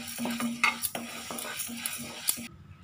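Moong dal is dry-roasted and stirred in a pan, giving a steady dry rustle and light scraping with occasional clinks of the spoon against the metal.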